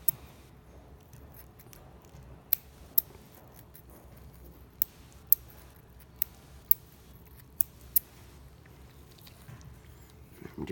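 Scissors snip dura mater away from a sheep brain during a dissection: a series of sharp, quiet metallic clicks at uneven intervals over a faint, steady room background.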